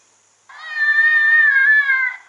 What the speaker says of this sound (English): And the next one is a jackrabbit in distress.